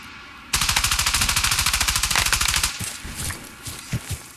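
Sustained machine-gun burst from a gun team in a military training exercise, rapid evenly spaced loud reports for about two seconds, then fading into scattered shots and echoes, close and dominant with no talk.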